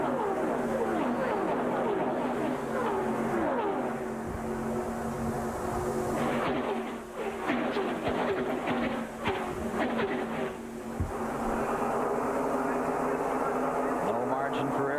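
Terry Labonte's NASCAR Cup stock car roars at Daytona in 1996, a loud sustained engine drone whose pitch rises and falls as the car is pushed hard, with race commentary talking over it.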